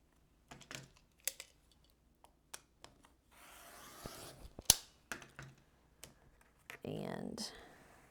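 A rotary cutter slices quilt fabric in quick, sharp crunching strokes with brief scrapes and handling noises between them, close and fairly quiet, while a person talks nearby.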